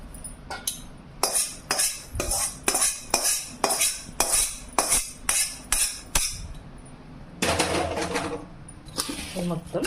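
A spoon knocks and scrapes against a metal vessel while jaggery mango pickle is mixed, making a series of rhythmic clinks about twice a second, then a longer scraping stretch near the end.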